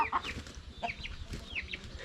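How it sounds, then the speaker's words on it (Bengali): Native village chickens cluck and chatter nearby in short, irregular bursts over a quiet outdoor background in a remote hill village. "মুরগি আছে এখানে দেশি মুরগি"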